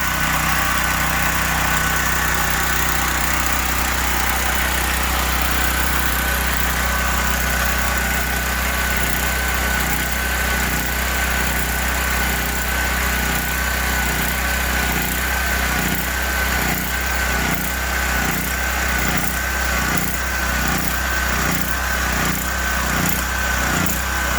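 A Gentron 10,000 watt generator keeps running after its fuel is shut off. The engine drones loud and close without a break, and in the second half its steady hum turns into a rhythmic pulsing stutter as it starves of fuel.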